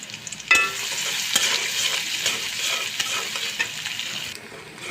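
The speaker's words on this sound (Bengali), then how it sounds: "তো আমি দেবো পেঁয়াজ কুচা" Chopped onion sizzles and crackles steadily in hot oil in a pan that has just fried eggplant, with a few stirring scrapes and no talking.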